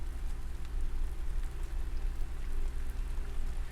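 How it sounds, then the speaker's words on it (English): Light rain falls steadily in the monster-taming, base-building game Ludoria, a soft, even hiss with faint pattering drops throughout and no speech. "Starting to rain a little bit again now."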